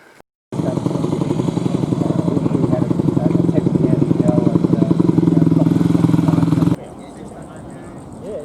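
Several adventure motorcycles start off together on an outback supported ride, a loud, steady engine roar building for about six seconds before cutting away to quieter ambience.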